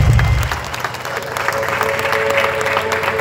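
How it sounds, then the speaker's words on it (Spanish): Guests at a quinceañera celebration break into sustained applause, a dense steady clapping from the crowd after a brief low rumble at the start, with a faint musical tone running underneath. "¡Aplausos! ¡Qué bonito!"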